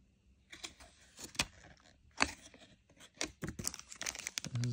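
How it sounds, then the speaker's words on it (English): Paper from a Samsung 25W super fast wall charger box crinkles and rustles in a few irregular bursts at close range as the packaging is handled, with no talking. "Just a piece of paper."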